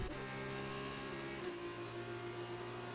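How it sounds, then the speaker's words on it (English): A Formula 2 race car in a racing video game at the Singapore GP holds a steady, buzzing high-revving engine note with a glitchy, droning tone, loud and continuous with a brief shift midway. "I've got that weird engine glitch with Gareth"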